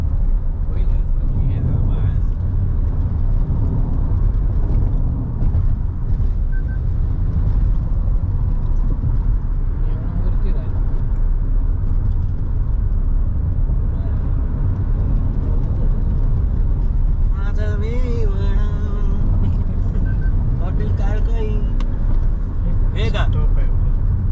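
A car travels the old Kashedi ghat road with a constant loud engine rumble and road noise from inside the cabin, and people talk over it.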